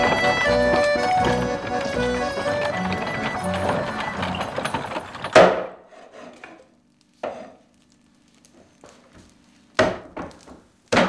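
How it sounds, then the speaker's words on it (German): Percheron draft horse pulling a carriage in the Normandy countryside: hooves clip-clop in a slow, uneven series of sharp knocks after a stretch of music, some close and loud, others fainter. "dann spannt Sophie ihr Percheron-Pferd an und übt mit Libellule Kutsche fahren"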